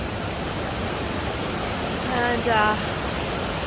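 Water pours down a waterfall in a garden of fairy houses, a loud continuous rushing roar with a short spoken phrase over it partway through.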